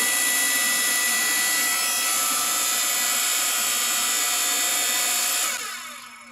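A Boss Industrial 7-ton electric hydraulic log splitter runs with a steady, loud whining drone of motor and pump, holding constant before winding down in the final second.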